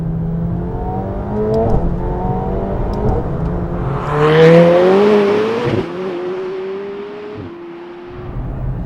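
A McLaren 720S with 710 horsepower accelerates hard through its gears. The engine note climbs in several rising pulls, each cut by a brief dip at the shift, loud and close, with a louder surge midway and no speech.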